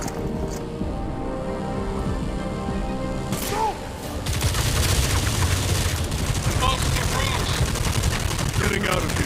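Dense gunfire in the video game Batman Arkham Shadow: rapid overlapping shots and bursts, fairly quiet at first, then a louder, sustained barrage from about four seconds on, with voices mixed in.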